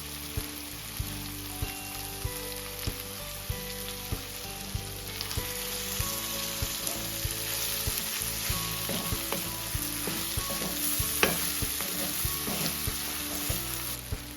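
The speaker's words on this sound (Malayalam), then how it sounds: "വറുത്ത് മാറ്റി വെച്ച സവാള കുറച്ച് ആഡ് ചെയ്യാം." Fried onions stirred into a sizzling pan of masala with green chillies and ginger-garlic paste: a steady, close hiss of frying with repeated soft clicks and scrapes of a spoon.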